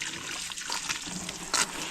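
A rotating garden sprinkler sprays water across a cabbage farm, giving a steady hissing spray with a brief louder burst near the end.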